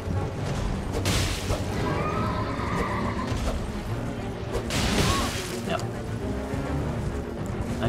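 A horse neighs in the video game Elden Ring amid dense game noise, with bright bursts of sound near the one-second and five-second marks over a constant rumbling background.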